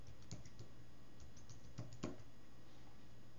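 Someone types a federal tax ID number on a computer keyboard while working in practice-management software, producing a few faint, sparse key taps against a low steady hum.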